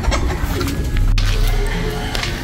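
Pigeons coo at their nest, soft repeated low calls close by over a busy background of rustling and other birds.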